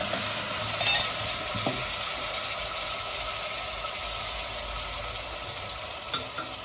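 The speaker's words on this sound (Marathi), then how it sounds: "आता आपण जी मिक्सरवर ग्रेव्ही करून घेतली होती, मिक्स कांदा, टोमॅटो, मिरची, आलं, लसूण, ती सगळी याच्यामध्ये आपल्याला ओतायची आहे" Blended onion, tomato, green chili, ginger and garlic gravy poured into a hot pan for chole, giving a loud, steady sizzle that holds throughout with faint stirring clinks.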